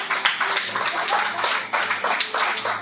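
Church congregation clapping hands together in a steady run of claps that fills the room, fairly close and sustained, with no clear talk over it.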